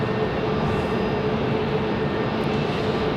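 An Embraer E175 airliner taxiing toward a gate at Raleigh-Durham International Airport, its engines a steady, loud broadband roar with a faint whine, unchanging and continuous with no voices.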